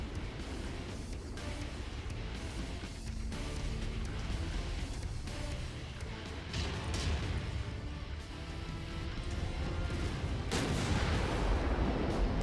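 Video game battle explosions roll on without pause, a dense wall of booming blasts and crackling gunfire-like bursts that swell louder toward the end, with no voices.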